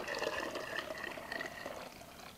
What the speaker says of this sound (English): Pour this into our big pot.